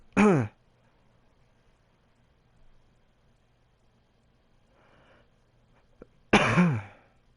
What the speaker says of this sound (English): Still battling a cough.